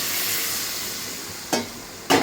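Boiled peas being stirred into oil-fried spiced potatoes for vegetarian ghugni, a steady close sizzle of frying in the pan, broken by two sharp scraping bursts of the spoon near the end.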